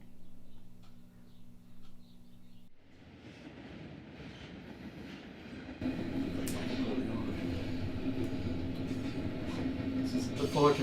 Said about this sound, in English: This is the Fullerton train station.